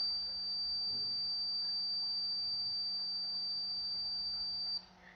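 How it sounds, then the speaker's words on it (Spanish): A Fluke 175 digital multimeter gives its continuity beep, one steady high-pitched tone held for nearly five seconds before cutting off, over faint room hiss. "el multímetro emitirá un pitido si se detecta"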